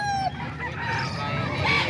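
Chickens kept by a rooster breeder, with a rooster's crow rising over steady fowl clucking and noise, fairly close and busy, with a little speech mixed in.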